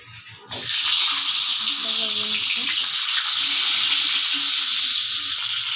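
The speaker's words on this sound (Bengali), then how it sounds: "এরপর কড়াই তেল দিয়ে পটলগুলো হালকা করে ভেজে নেবে।" Pointed gourds fry in hot oil in a wok, giving a steady, loud sizzle that starts abruptly and holds throughout, with faint clinks and indistinct voices beneath.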